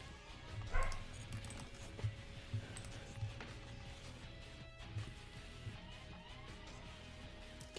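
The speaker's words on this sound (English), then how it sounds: "Are we really barking right now?" A dog barks in a series of short, evenly spaced yips and woofs over a steady background hum, fairly close and moderately loud.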